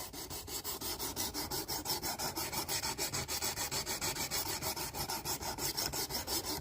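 A knife blade is drawn over the abrasive of a Work Sharp Precision Adjust sharpener in quick, regular rasping strokes, close and steady, about four per second, with no talk.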